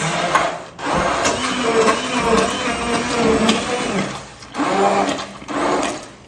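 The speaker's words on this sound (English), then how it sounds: "I'm gonna use my immersion blender" An immersion blender purees hot vegetable soup up close with a loud, steady buzzing whir, briefly dropping off twice before spinning back up. No one speaks.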